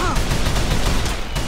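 Rapid bursts of gunfire fill a Call of Juarez: The Cartel firefight, sustained and dense from start to finish, with shouted voices mixed in.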